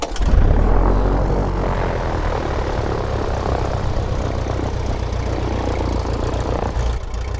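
A 90-year-old airplane's engine, started by hand propping, catches with a cough and settles into a loud, steady propeller drone and throbbing idle, close and continuous throughout.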